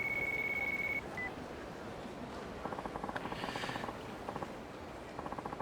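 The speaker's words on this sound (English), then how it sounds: "another phone call." A phone rings in the video game Yakuza 4 Remastered, a steady electronic tone, then short buzzing vibration pulses in repeated bursts over quiet background ambience.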